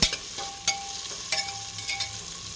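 Whole spices such as cloves and peppercorns roasting for biryani masala in a pan, giving a steady soft frying hiss with a few brief stir scrapes and clicks, close and alone with no talk.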